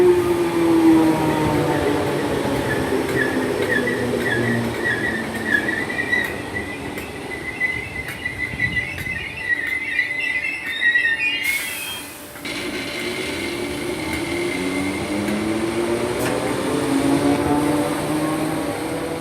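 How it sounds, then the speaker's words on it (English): Merseyrail class 508 electric train 508-136 arriving and then departing Kirkdale station on the Kirkby to Liverpool Central service: a long rumble with rising and falling motor whine, wheel squeals, and a steady loud presence close by. "coming in now is the 1222 Merseyrail service to Liverpool Central from Kirkby, 508-136"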